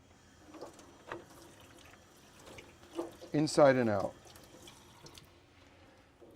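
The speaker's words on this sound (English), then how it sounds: "under running water, we're going to rinse the product" A PPE face shield is rinsed under running tap water, with a brief louder splash of flowing water amid faint drips, while a voice speaks quietly.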